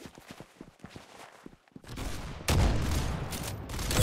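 Gunfire from the Roblox game Arsenal comes as scattered sharp shots, then a dense, louder burst of rapid fire that runs to the end.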